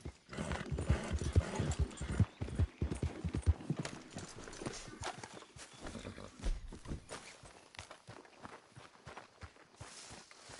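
Horse hooves clip-clop in Red Dead Redemption 2, a close, uneven stream of thudding steps that is busy at first and thins out later, with no talking over it.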